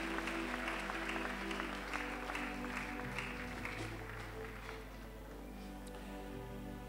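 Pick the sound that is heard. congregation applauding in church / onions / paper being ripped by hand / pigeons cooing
congregation applauding in church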